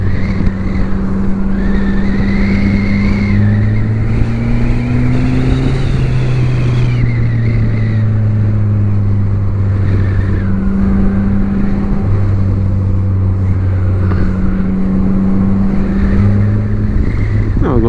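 A 2017 Polaris Slingshot engine drones steadily on a road, the pitch slowly climbing and dipping as it accelerates and eases off, loud and close under constant wind and road noise.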